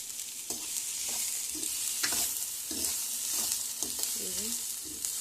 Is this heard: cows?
no